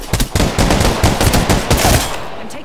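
Rapid automatic gunfire in Apex Legends rattles loud and close, a dense burst of shots that runs almost continuously for about two seconds before tapering off.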